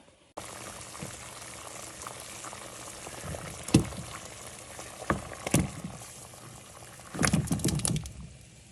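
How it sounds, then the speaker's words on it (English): Water boils steadily in a pot of potatoes, a constant bubbling hiss with occasional louder knocks and clatters of utensils nearby. "I've got the potatoes in the pot boiling away"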